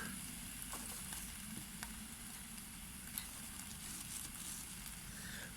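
A dry wood fire burns in a camping stove on a winter ride, giving a steady close crackle and hiss with scattered small pops and ticks throughout.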